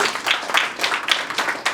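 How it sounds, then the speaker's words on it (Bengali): Applause from an office event audience greeting executive Nadira Sultana, a steady run of many hands clapping together, fairly close and lively, with faint voices mixed in. "নাদিরা সুলতানার জন্য সবাই একটা করতালি"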